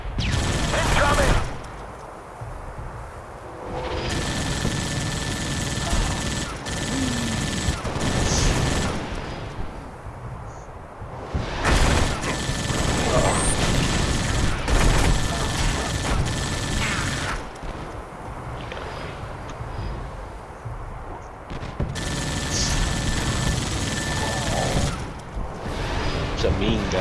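Gunfire from a weapon in the video game Halo: Spartan Assault, sounding as dense, loud bursts of rapid shots that come in waves with short lulls, along with booms and game noise.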